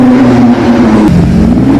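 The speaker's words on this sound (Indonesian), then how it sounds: "Dan keluarlah mobil balap kuning." Yellow toy race car giving off a loud, steady electronic engine-revving sound with a brief dip partway through.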